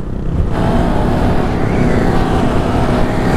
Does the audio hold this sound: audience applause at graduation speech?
no